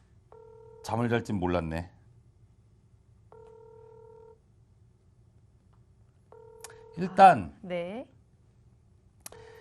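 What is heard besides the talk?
telephone call dialing and ringing unanswered, connection failing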